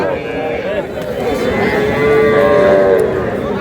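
Cattle and young bull calves, about two to three months old, lowing at a busy livestock market (haat) in Aftabganj, with a drawn-out moo rising near the end over steady crowd chatter.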